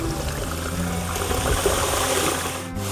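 Water pouring down a rocky river canyon waterfall at Kadiya Dhro in Kutch, a continuous close rushing and splashing flow with steady intensity throughout.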